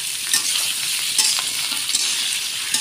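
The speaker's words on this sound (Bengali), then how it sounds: "এবার কুচিয়ে রেখেছিলাম আলু দিয়ে দিলাম। একদম আলু ভাজার মতন করে" Chopped potatoes frying in a pan with onions already browned, a steady close hiss and crackle of oil with occasional stirring scrapes, continuous and fairly loud with no voices.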